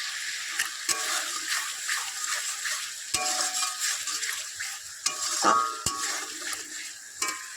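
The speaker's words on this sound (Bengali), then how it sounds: "পেঁয়াজের ভিতর দিয়ে ভালো করে কষিয়ে নেব" Spice paste and onions sizzle while being sautéed in a pan for a spicy fish roe dish, a spatula stirring and knocking against the metal at irregular intervals over a continuous fry.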